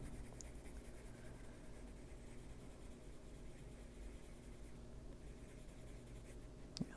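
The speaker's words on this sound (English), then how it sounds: "This paper is really smooth with these pencils." Colored pencil strokes on smooth paper, a continuous soft, faint scratching of pigment rubbing the page, steady with no pauses and no voices.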